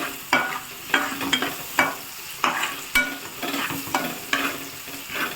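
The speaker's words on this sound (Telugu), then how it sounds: "ఎండిమిర్చి వేసుకుందాం ఫ్రెండ్స్" Dried red chillies crackle in hot oil as a utensil stirs them, producing a bright steady sizzle punctuated by repeated sharp scrapes and taps against the pan, nearby and unaccompanied by speech.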